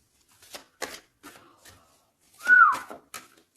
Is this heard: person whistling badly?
yes